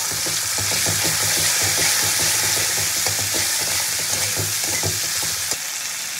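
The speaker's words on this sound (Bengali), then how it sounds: "টমেটোটা ভাজা হতে হতে দিয়ে দেবো আমি আদা আর কাঁচা লঙ্কা বাটা।" Tomato frying in a pan with ginger and green chili paste for a broccoli, potato and pea curry, a steady loud sizzle broken by frequent stirring scrapes and clicks throughout, no voices.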